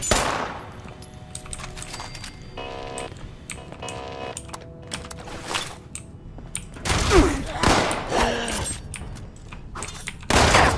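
Shotgun blasts in Fallout 76, several sharp loud bursts scattered among clatter and rapid clicking, with the heaviest shots grouped near the end.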